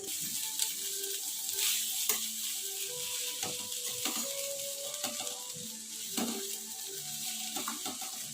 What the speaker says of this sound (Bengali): এইভাবেই কিছুক্ষণ ধরে ভাজা হবে আলু ভাজিটা।